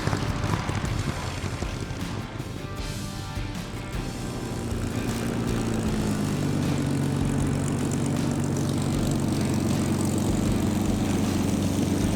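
A Spitfire's piston aircraft engine runs steadily after landing at Goodwood, a loud, continuous propeller drone with wind buffeting, rising a little in level partway through and staying constant, with no talk.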